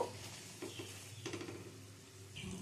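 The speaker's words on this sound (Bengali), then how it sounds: "জল দিয়ে আলুর সাথে মশলাটা আবারও কিছুক্ষণ কষিয়ে নেব।" Potatoes and spices being sautéed with a splash of water in a pan, a faint steady sizzle with soft scraping and stirring clinks for a potato and pumpkin dish.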